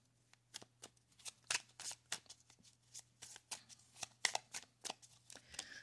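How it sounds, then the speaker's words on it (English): Tarot cards are shuffled and snapped down close by in a steady run of crisp riffles and slaps, each a quick papery burst over a faint low hum. "I'm going to lay out some more cards."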